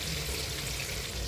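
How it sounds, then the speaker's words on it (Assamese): Masala spices fry for duck curry, a dense, even sizzle with a watery bubbling texture, close and continuous through a short moment with no voices. "এইপিনে মছলা ভাজি আছোঁ হাঁহৰ বাবে"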